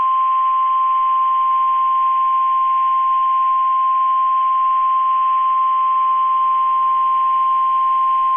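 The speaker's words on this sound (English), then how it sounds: "Preceding signal is a test of the public warning alarm for transmitters in the Florida listening area" A NOAA Weather Radio public warning alarm test tone: a single loud, steady pure tone with a hiss of radio static, holding unbroken and unchanging throughout.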